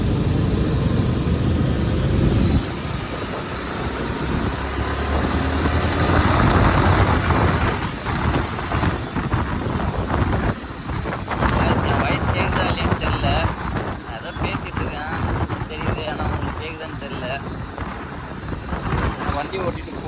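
A two-wheeler is ridden along a busy road in hot sun, with constant heavy wind roar buffeting the microphone over a steady engine drone, while a rider talks throughout.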